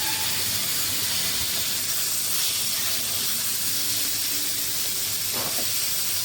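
Brinjal fries in a pan of hot oil over a high gas flame, making a steady, loud sizzling hiss that runs without a break, with a faint scrape near the end.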